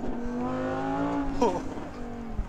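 Audi R8 V10 supercar driving hard on a race track: a loud, steady engine drone heard from inside the car, its pitch rising and falling as the driver shifts and changes speed.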